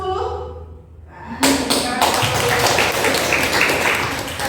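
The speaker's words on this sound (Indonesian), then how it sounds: "Tepuk tangan 2, tepuk 1, tepuk 3, tepuk 10" Classroom of students clapping in a counting concentration game: after a quiet pause with a voice, a burst of loud, sharp claps starts and continues in a dense, rapid run.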